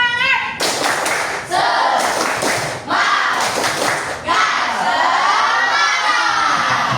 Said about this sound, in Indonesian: Pernah dengar tepuk semangat?